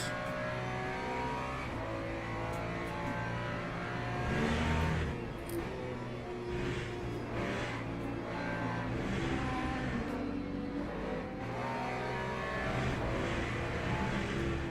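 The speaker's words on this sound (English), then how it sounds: "here come the LMP2s" LMP2 prototype race cars in Le Mans Ultimate at Qatar roar past, a steady loud engine drone with rising revs and a brief surge near the middle, continuous throughout without talk.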